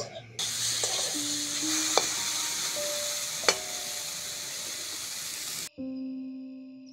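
Steady, loud sizzling of dried loitta fish with turmeric and salt frying in a hot pan, with a few stirring scrapes and clicks.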